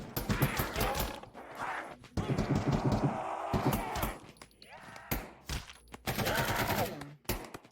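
Rapid gunfire bursts from a VR Call of Duty Zombies match, loud and dense, with several players talking over the shooting throughout.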